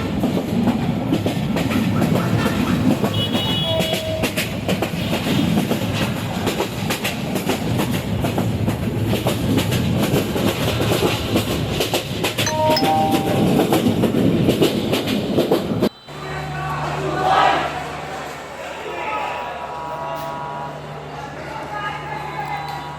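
A passenger train rolls toward Mymensingh station in Bangladesh with steady rumble and clickety-clack from the wheels. The noise runs loud for about sixteen seconds, then drops sharply to a quieter interior with some faint voices.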